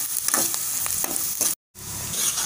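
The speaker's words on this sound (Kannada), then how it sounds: "ಈರುಳ್ಳಿ ಫ್ರೈ ಆಯಿತು, ಬೇಕಾದ್ರೆ ಇನ್ನೂ ಸ್ವಲ್ಪ ಫ್ರೈ ಮಾಡ್ಬೋದು" Onions frying in a pan, with a close, steady sizzle and several stirring scrapes, broken by a brief total dropout before the sizzling resumes.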